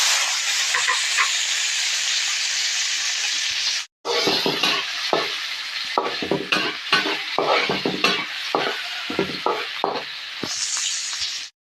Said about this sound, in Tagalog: Igisa po muna natin ang bawang, sibuyas at luya.